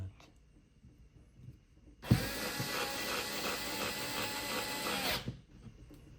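A cordless electric screwdriver with 3-gear torque whirs steadily for about three seconds while backing out a screw, a loud continuous motor drone that starts and stops abruptly amid quiet surroundings.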